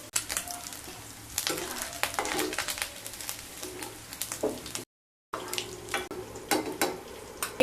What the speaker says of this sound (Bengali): নারকেলগুলো যখন ভাজা হয়ে যাবে তখন তুলে নেব।